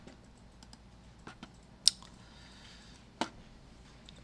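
A few scattered keystrokes on a computer keyboard while writing an HTML document, faint soft clicks with two sharper taps, like Enter and the space bar, in a quiet room.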